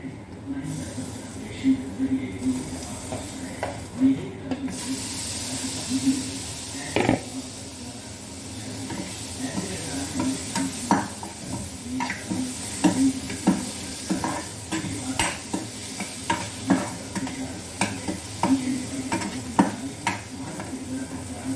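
Tomatoes tossed into a frying pan over burnt onions hiss and sizzle steadily, with repeated scraping stirs and clinks giving an irregular rhythm close by, and a voice speaks briefly over the cooking.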